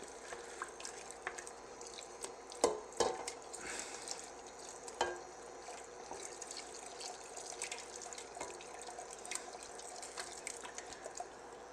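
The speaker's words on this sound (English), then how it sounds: "Just stir it in gradually and you won't have any lumps." Liquid is gradually stirred into a gumbo mixture in a pot, giving soft wet sloshing, dripping and gentle scraping at low, fairly quiet level, with a couple of sharper clinks, no talking.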